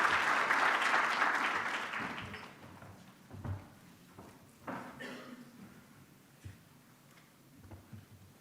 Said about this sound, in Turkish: Yine aynı alkışlarla lütfen efendim.